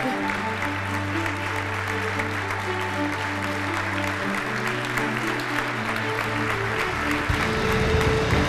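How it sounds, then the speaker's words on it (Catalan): A crowd at a night castells human tower event breaks into sustained, loud applause that carries on throughout, with steady tones held underneath. "Aplaudiment fortíssim per aquests capgrossos."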